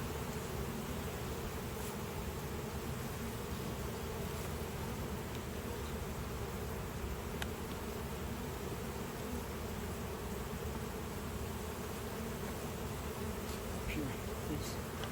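Honeybees buzz continuously during a hive inspection as the colony grows agitated, a dense, steady droning hum close by with no break.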